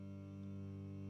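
A steady cello G drone holds one sustained note with rich, unchanging harmonics, continuous and fairly quiet throughout with no other sound.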